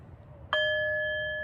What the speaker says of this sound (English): we're going to ring the bell